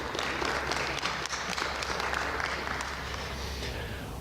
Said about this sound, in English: So please welcome our panel with a round of applause